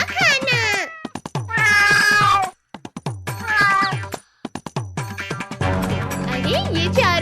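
Repeated drawn-out meows, loud and close, come in bursts separated by short pauses, some sounding like a voice imitating a cat.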